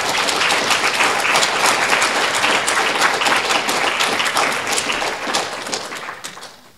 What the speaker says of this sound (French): on peut c'est le manifester en les applaudissant pour ce temps.